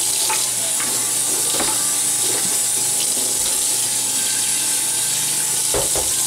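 A soapy sponge scrubs inside a glass thermal carafe from a Black & Decker coffee maker, giving a continuous wet, sloshing swish with intermittent squeaky rubbing strokes, close and fairly loud.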